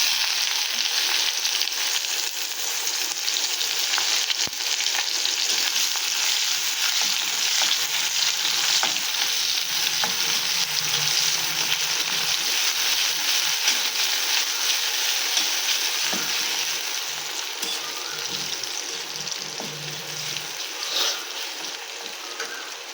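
Chopped garlic and onion fry in a pan with a loud, continuous close-up sizzle that holds steady throughout, with faint stirring rustles now and then.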